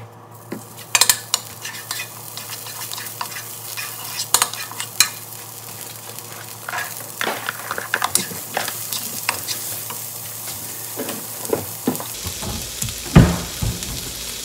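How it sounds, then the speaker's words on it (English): Butter frying in a pan over medium heat with a steady sizzle, interrupted by sharp clinks and scrapes of a utensil stirring against the pan, growing busier toward the end. "Add a little bit of the original butter,"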